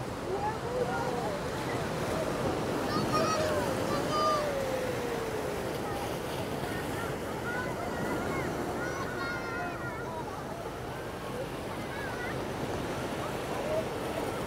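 Ocean waves wash onto the beach at Playa de las Américas, Tenerife, a steady broad roar of surf heard throughout, with wind and faint distant calls layered over it.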